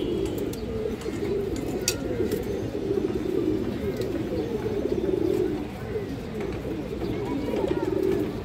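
Khaki Bagha pigeons cooing in a loft, a continuous low rolling coo from several birds throughout, with small sharp clicks and movement sounds scattered over it.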